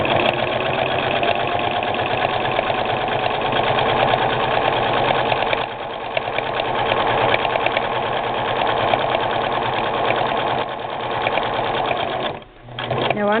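A Singer 6212C sewing machine stitches steadily through a thin fabric piece while cross-hatching thread, a continuous rapid mechanical whir with a short dip midway and a pause near the end.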